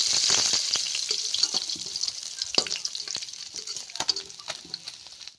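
Fish fries in hot oil in a pan, sputtering and crackling loudly at first, then easing into a softer sizzle with scattered pops and sharp stirring clicks nearby.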